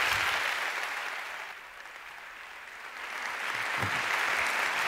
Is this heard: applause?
yes